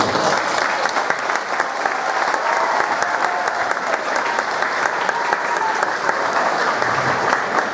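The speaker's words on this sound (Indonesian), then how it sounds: "Tepuk tangan lagi." A crowd gives sustained applause during a Buddhist Dhamma talk by a senior monk, the dense clapping steady and fairly loud throughout, with faint voices mixed underneath.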